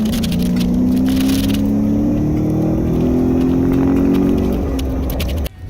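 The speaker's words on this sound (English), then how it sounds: "What does the EcoBoost sound like?" The EcoBoost engine of a Ford Raptor off-road truck revs up close and loud, its tone climbing steadily for several seconds before it drops off sharply near the end.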